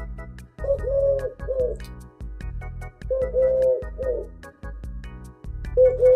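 A pet pigeon or dove coos close by, indoors beside a computer keyboard. It gives rolling, repeated coos in three phrases, separated by short pauses and soft tapping.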